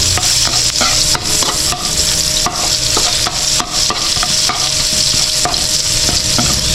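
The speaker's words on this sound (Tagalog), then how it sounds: "Gisayin na natin yung sibuyas at saka bawang." Onion and garlic sautéing in a pan, a loud continuous sizzle with frequent metallic scrapes and taps of a spatula stirring, heard up close with no talking.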